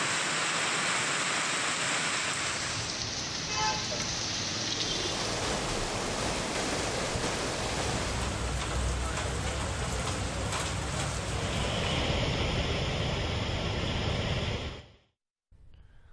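Heavy rain falls in Telangana as a dense, steady roar of drops on surfaces, loud and continuous for most of the stretch before cutting off abruptly near the end.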